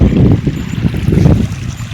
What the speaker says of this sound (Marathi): आवाज कसा खळखळ येते बघा.